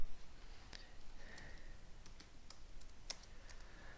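Fast, light clicks of a computer keyboard while code is typed, a handful of quiet keystrokes spread over a few seconds in a still room.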